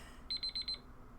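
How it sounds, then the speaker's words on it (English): A timer alarm goes off in the Gamedec video game, playing three quick, evenly spaced electronic double beeps, faint and thin over quiet background hum, with no talking. "And there goes the timer on the forbidden word."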